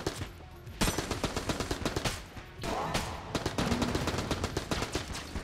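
Rapid automatic gunfire from the twin-stick shooter game Enter the Gungeon, with dense, loud bursts of shots, a brief pause near the start, then sustained rattling fire.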